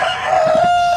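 Farmyard chickens cluck close by, with a sustained crowing call running through the short burst and no one talking.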